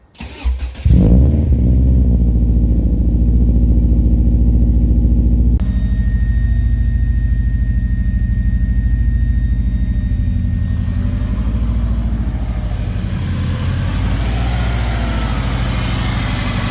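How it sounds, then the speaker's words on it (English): A Subaru fitted with a Ninja catback exhaust cranks briefly and fires up. It settles into a loud, deep, steady idle that carries on alone, with a slight drop in level near the end. "let's go start the car for the first time"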